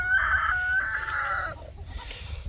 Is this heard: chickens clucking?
yes